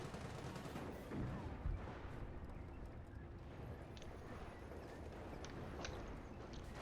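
Machine gun fire in a war league video game, a dense, muffled clatter of gunfire running throughout a noisy battle soundscape, moderately loud and without clear distinct shots.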